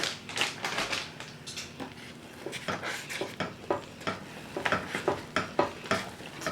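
A spoon stirs and scrapes through shepherd's pie ingredients in a bowl, making quiet, irregular clicks and scrapes in a steady rhythm with no voices.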